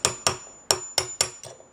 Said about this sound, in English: I'm going to need a little bit of a hammer